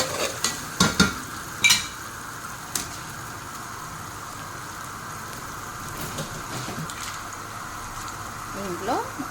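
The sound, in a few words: onion with ginger garlic paste frying in pan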